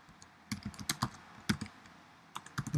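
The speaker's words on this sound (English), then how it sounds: "All you do is here you type," Short bursts of close keyboard typing while entering post tags on a blog, with a quick run of clicks, a pause, then another brief flurry, and no voice.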